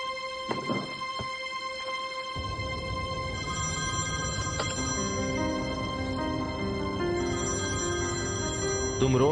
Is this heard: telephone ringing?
yes